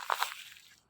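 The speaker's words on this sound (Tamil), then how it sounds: "அப்படியே நொறுக்கிற மாதிரி அந்த க்ரன்ச் சத்த மாதிரி வரும். ஏன்னா ஃப்ரீஸ் ஆகிருக்குது எல்லாம்." Frozen fallen leaves crunch underfoot in -4 degree cold weather in London, giving a few close, brittle crushing crackles in quick succession that fade out within a second.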